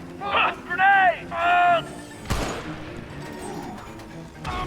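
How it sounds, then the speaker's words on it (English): A grenade detonates in the shooter game The Bureau: XCOM Declassified, a sharp loud blast that decays into a rumbling tail, after shouted voices and followed by another gunshot-like hit. "Grenade!"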